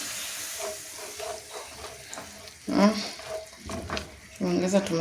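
A hot pan sizzling and hissing, flaring up sharply in two loud bursts as liquid hits it, with stirring and a person talking over it.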